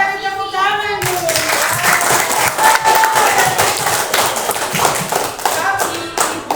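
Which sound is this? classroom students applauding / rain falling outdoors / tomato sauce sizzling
classroom students applauding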